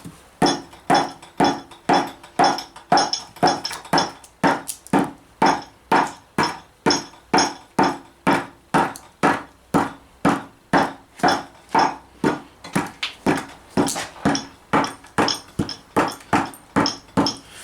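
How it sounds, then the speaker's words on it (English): Steady, rhythmic hammer blows on wood while making a dishing stump, roughly two strikes per second, loud and close, continuing without pause and with no talking. "Then just make your way around it again with the hammer."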